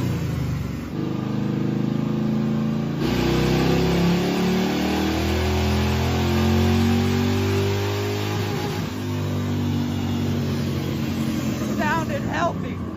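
A Ford Crown Victoria engine runs on diesel fuel, idling and then revving in long rising and falling sweeps, close and steady, while someone talks over parts of it.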